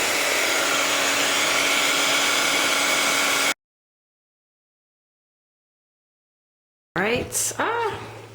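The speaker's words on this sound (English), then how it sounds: "I take my heat gun" A heat gun fusing a layer of encaustic wax gives a loud, steady blowing roar, then cuts out to silence before a voice begins talking.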